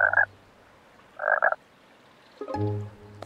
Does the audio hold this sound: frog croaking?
yes